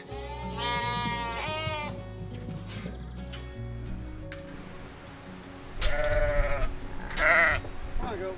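Sheep and ewes bleat repeatedly inside a barn on an Ontario sheep farm, several wavering calls near and loud, with quieter farm background and faint talk in between.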